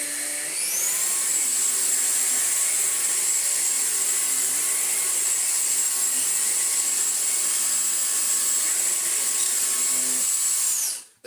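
A Numatic Henry vacuum cleaner hums steadily on its normal setting, a loud, even motor whine with a high-pitched edge that holds for several seconds before switching off at the end.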